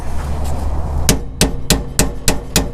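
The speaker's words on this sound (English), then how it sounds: "I think we gotta give it a little persuasion with a plastic mallet." Plastic mallet tapping on a stuck pinion seal during a pinion seal replacement: six sharp, evenly spaced knocks in the second half, close and loud over a low background hum.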